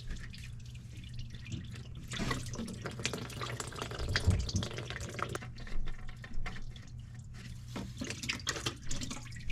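Engine oil draining from a 2022 Honda Civic 2.0 into a drain pan, a close trickling, dripping liquid sound that rises and falls under a low background hum.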